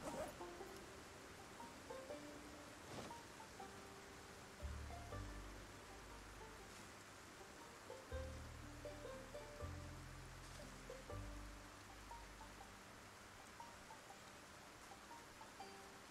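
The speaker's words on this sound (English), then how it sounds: "our clothes should get cleaner as we walk around, since it's raining" Steady rain falling in the zombie survival game Project Zomboid, a faint, continuous hiss of drops with a few low tonal game sounds drifting underneath.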